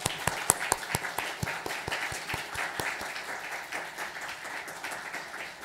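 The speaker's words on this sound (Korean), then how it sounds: "우리 큰 박수 하겠습니다" A church congregation applauds during a Korean Sunday worship service, with loud, evenly spaced individual claps up front at first, then a denser, steady round of clapping that gradually thins.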